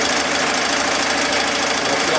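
A Melco Bravo X embroidery machine stitches a patch at high speed, giving a loud, dense, continuous mechanical whir with rapid needle chatter close to the listener.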